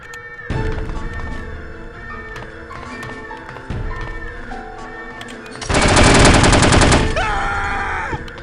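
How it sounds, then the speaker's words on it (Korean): Gunfire in the video game No One Lives Forever: repeated loud bursts of shots echoing over a game soundtrack, followed by a dense, intense volley of rapid fire toward the end. "어디서 나 쏘고 있는 것 같은데?"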